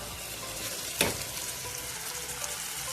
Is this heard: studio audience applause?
no